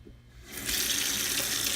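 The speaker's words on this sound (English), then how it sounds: "we need to wash them. So that's what I'm about to do. Just pour them in the colander," Running tap water pours into a sink as blueberries are rinsed in a colander, starting softly and swelling into a steady, close rush of water after the first half second.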